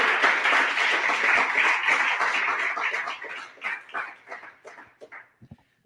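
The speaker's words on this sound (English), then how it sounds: "a big round of applause to them" Applause from an annual meeting audience, a sustained round of clapping that thins out into scattered individual claps before stopping.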